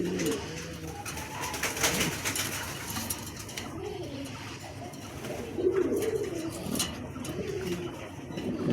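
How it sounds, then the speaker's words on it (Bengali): Several pigeons kept by a bird seller coo repeatedly in soft, rolling bursts. The sound stays close and fairly quiet, mixed with light rustling and occasional clinks. "4 খিল 3 খিলের কবুতর।"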